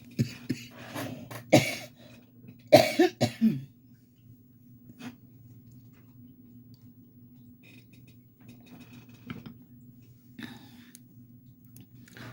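A few harsh coughs and throat clears up close in the opening seconds, followed by quiet breathing and small clicks.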